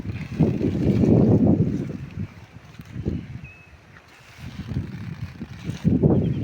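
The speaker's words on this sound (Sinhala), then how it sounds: "හුළඟ." Gusty wind by a cool lakeside with blooming lotus flowers, buffeting the microphone in low, rumbling surges that rise and fall over a few seconds, with no voices.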